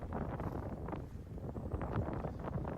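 Steady wind buffets the microphone with low rumbling gusts throughout, loud and continuous with no other clear sounds, on Mount Whittier, a lost ski area in West Ossipee, New Hampshire, on a November afternoon.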